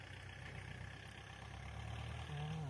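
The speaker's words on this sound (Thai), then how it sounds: "นี่นะคะรถไถ" A farm tractor engine idles nearby in a field during cassava harvest work, a low steady rumble with a faint rhythmic chug, moderately quiet and unbroken, with a slight rise toward the end.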